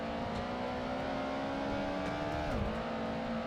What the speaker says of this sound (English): smashing it down into first gear. Get that engine braking, helping us